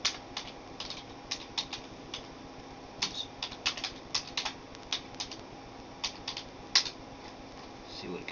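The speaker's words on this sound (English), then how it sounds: "let's type it in here" A name is typed on a computer keyboard: quick, light key clicks in uneven short runs with pauses, close but fairly quiet over a faint room hum.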